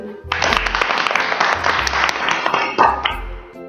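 Fairies clapping in a storybook scene: a dense, steady wash of many hands applauding, loud and close, with a brief swell near the end before it thins out.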